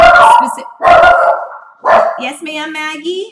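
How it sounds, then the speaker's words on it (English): A pet dog barks in short bursts indoors, loud and close, mixed with a person talking during a real estate live stream, followed by a higher whining tone. "sorry, that was our dog."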